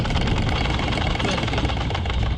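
A yacht's engine idles in neutral during anchoring, a steady mid-pitched mechanical drone with a faint knocking rhythm that stays loud and even throughout, close by.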